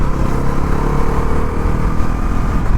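A Bajaj Pulsar NS400Z motorcycle engine runs loud and close at a steady drone while gears shift up without the clutch, the note holding even with no sharp jerks.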